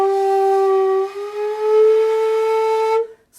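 A shakuhachi plays a sustained breathy tone that bends slowly and smoothly upward in pitch, a suriage slide, for about three seconds, then stops. No voices or other sounds are present.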